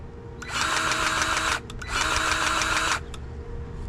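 A grease gun pumps grease into equipment fittings in two close, whirring mechanical bursts of about a second each, separated by a short pause, with a faint click after.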